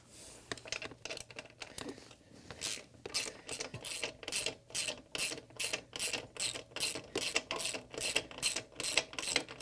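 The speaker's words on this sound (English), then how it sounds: "There's actually a bolt on the other side. And we might need to put an Allen key on it." Ratchet wrench loosening a bolt on a Honda CB1000R rear shock, quiet irregular clicks at first, then a steady run of evenly spaced rasping ratchet strokes, close up with no talk.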